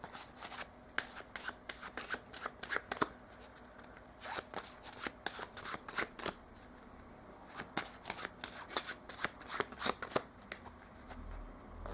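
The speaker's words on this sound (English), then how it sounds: "I'll give both the piles a shuffle." Playing cards riffle-shuffled in several quick bursts during a close-up magic routine, sharp fluttering clatters separated by short pauses, quiet and near with no talking.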